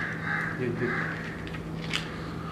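A crow caws a few times at a distance over a steady low hum, harsh calls spaced out in a quiet indoor-sounding space.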